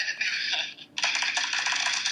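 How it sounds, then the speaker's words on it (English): Playing cards riffle shuffled close up, a quick fluttering burst, a brief pause, then a second longer run of rapid crisp flicks. "Do you know how to shuffle cards, like a riffle shuffle?"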